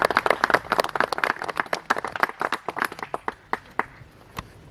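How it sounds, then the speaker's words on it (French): A small audience at a château event applauds briefly, with scattered, uneven claps that thin out to a few isolated hand hits by the end. "je pense qu'on peut applaudir quand même"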